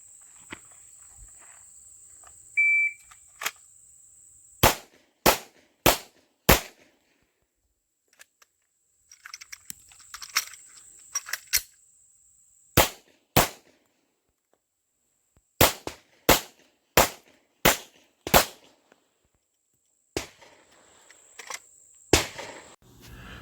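Handgun fired one-handed at a shooting range, sharp loud single shots in uneven groups with pauses between strings, plus faint shuffling and clicks in the gaps.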